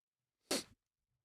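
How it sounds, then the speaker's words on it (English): A single short, sharp sneeze, close and alone in an otherwise quiet room. "I have to sneeze as well"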